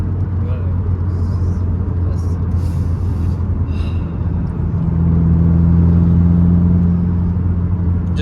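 Subaru WRX with a MAF sensor fix and tune, its engine droning steadily in third gear and rising in pitch as the throttle opens, heard loud from inside the cabin.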